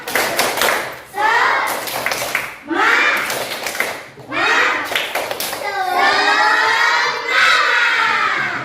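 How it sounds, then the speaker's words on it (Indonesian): Classroom children perform a rhythmic spirit clap in unison during a school lesson, with bursts of patterned hand claps mixed with their loud chanting voices, repeated in several rounds. "Tepuk semangat."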